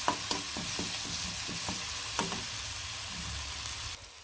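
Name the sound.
onions frying and being stirred in a pan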